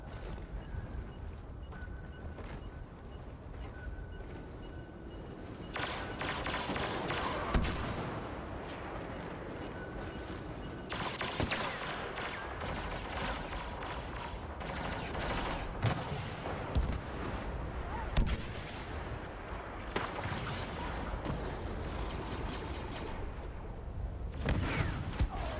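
Rocket fire and explosions in a 2v2 video game match, a sustained barrage of booming blasts and rumbling impacts with sharp bursts scattered throughout, loud and continuous for the whole stretch.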